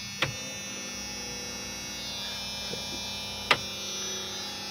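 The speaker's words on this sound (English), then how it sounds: "That's a fuel pump." The fuel pump of a 1995 Jeep Wrangler YJ fitted with a Chevy 350 engine gives a steady electric buzzing hum, heard close, with two sharp clicks breaking in.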